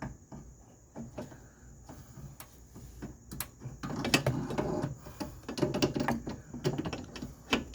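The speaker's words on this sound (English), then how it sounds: "I'm gonna hold it with a backup and I'm gonna crank it." Wrench cranking to tighten a car A/C line fitting while held with a backup wrench, a series of faint irregular clicks and ratcheting ticks that grow louder and busier toward the end, close with a quiet background hiss.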